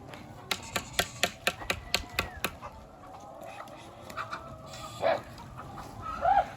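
Chickens cluck in a rapid series of sharp, evenly spaced calls, followed by scattered softer clucks and a couple of louder squawks nearby.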